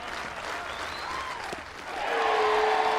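A college baseball crowd at a Tennessee home game against Missouri rises to its feet, broad cheering and applause swelling steadily and growing louder toward the end, with a faint announcer voice in the background.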